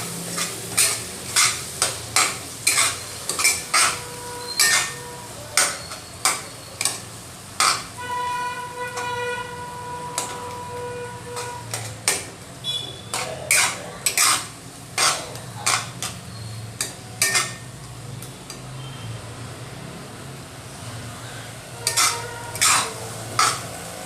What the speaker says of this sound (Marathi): छान परतवून घेऊया बरं